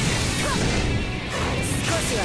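Shunkō thunder-strike attack from the PS3 game BLEACH Soul Carnival: a loud, continuous crackling crash and smash of impacts with brief whooshes, filling the whole moment without pause.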